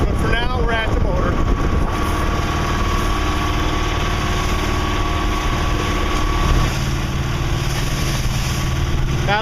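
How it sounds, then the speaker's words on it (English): Sailboat's inboard motor drones steadily while the boat heads directly into wind and waves on a bumpy passage from Waukegan to Chicago, with water slapping and a hum that shifts lower partway through; people talk over it. "Got a little bit bumpy now that we got the engine on"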